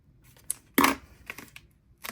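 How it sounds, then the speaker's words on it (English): A few short, close snips of scissors cutting journal paper, one louder crisp cut in the middle, with quiet pauses between. "Get the scissors for this little one."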